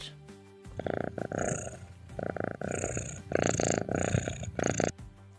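A cat purring close up, a steady rumbling drone in several long bursts with short gaps between them.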